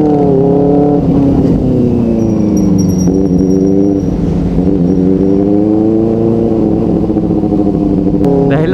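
Benelli TNT 600i inline-four 600cc motorcycle fitted with an Austin Racing exhaust, revving loud and close with rising and falling harmonic engine tones throughout, no voices.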